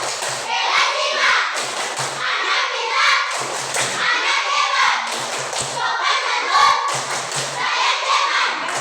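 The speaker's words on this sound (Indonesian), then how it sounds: "Tepuk kelas 5." Schoolchildren in a fifth-grade classroom clap a patterned class clap together, with rhythmic bursts of claps and thumps repeating steadily and close by, mixed with children's voices.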